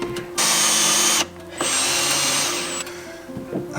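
A power drill drives a screw into wood while building an off-grid cabin in the Rocky Mountains, two loud whirring bursts separated by a short pause, with a brief tail-off at the end.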